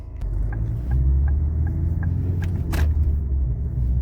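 A 2011 Ford Kuga diesel pulls out onto the highway, a steady low engine rumble and road hum close by, with faint ticking clicks over the drone and no talk.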